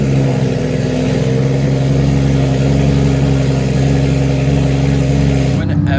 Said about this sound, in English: I'm about to get a nasty cold start for y'all